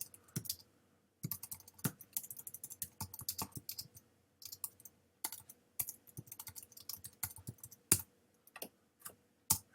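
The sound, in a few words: typing on a computer keyboard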